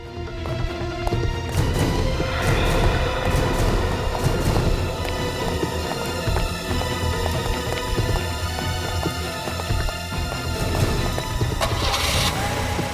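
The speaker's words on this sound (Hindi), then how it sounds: "बॉस, सीआईडी वाले 2 गाड़ी में निकले हैं बॉस।" Two cars pull away one after another, engines loud and rumbling up close, with tyres and mechanical clatter blending into a dense, steady roar.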